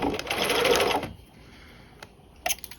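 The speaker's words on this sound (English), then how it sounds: "So I'm going to sew from" A sewing machine stitches a V neckline in one quick, close, rhythmic run of about a second, then stops, leaving faint clicks.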